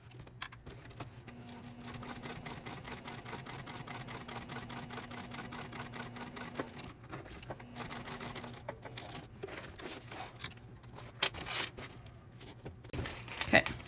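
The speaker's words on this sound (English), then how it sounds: "We're going to stitch just a straight line just under the bottom of the zipper teeth." A sewing machine runs a straight line of stitching across a tote bag just below a zipper, with a fast, even mechanical patter for several seconds that pauses, resumes briefly and then stops, followed by light handling clatter.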